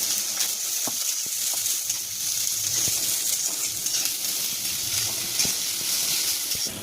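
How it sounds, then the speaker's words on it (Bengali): Chopped onions and green chilies fry in oil in a wok, a continuous close hiss and sizzle with occasional sharp clicks of stirring, and no voices. "কড়াই কিছুটা তেল দিয়ে নিয়েছি, এখন দিয়ে দিব পেঁয়াজ কুচি, এরপরে দিব কিছুটা মরিচ, কাঁচামরিচ"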